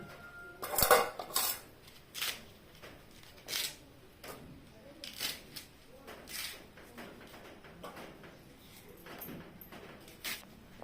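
A knife cuts colocasia (taro) stems for a village-style gojju, giving a series of sharp, close chopping taps and clatters against a board or pan, the loudest cluster near the start, with quieter cuts spaced out after.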